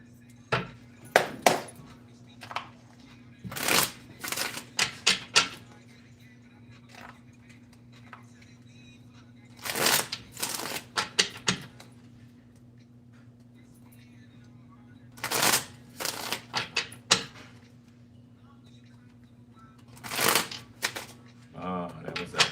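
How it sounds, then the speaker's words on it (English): A deck of cards is shuffled in repeated bursts of crisp riffling and snapping clatter, separated by quiet pauses, against a faint steady hum, with a person talking at times. "That was a nasty shuffle."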